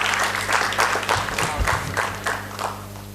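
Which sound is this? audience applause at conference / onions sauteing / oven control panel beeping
audience applause at conference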